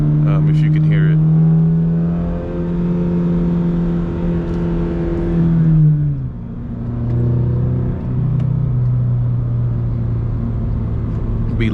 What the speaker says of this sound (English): You even get the rattle from the exhaust note right here to my right